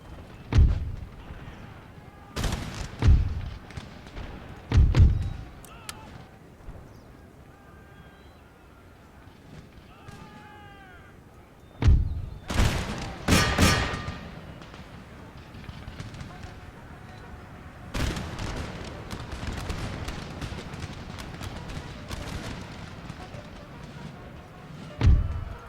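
Musket volleys and artillery fire in Empire Total War, heavy thumps and cracks arriving in clusters with quieter gaps between them, mixed with battle noise and soldiers' voices.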